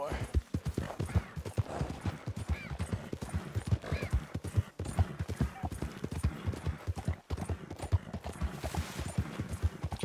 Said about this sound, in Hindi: यहां तो हम घोड़े टकरा रहे हैं.